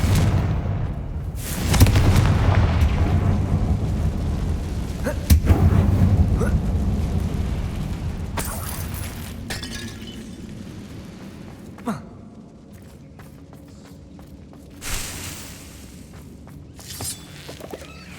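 Confringo fire spell cast in Hogwarts Legacy, heard as a loud booming blast with heavy rumble early on, a second sharp burst, then fainter thuds and a softer tail of scattered impacts.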